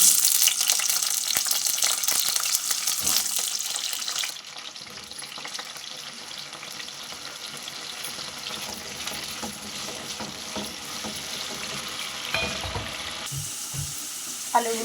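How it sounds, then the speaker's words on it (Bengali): Potatoes frying in hot oil in a home kitchen, a steady bright sizzle running throughout, loud at first and easing slightly after a few seconds, with faint utensil clinks near the end. "তেলটা গরম হয়ে গেছে, আলুটা ভেজে নেব।"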